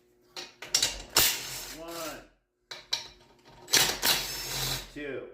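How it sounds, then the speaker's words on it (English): Head bolts being loosened and removed from a Briggs and Stratton flathead go-kart engine, several short ratcheting bursts separated by pauses, close and clear, with a man counting aloud between them. "And now we can take out the bolts."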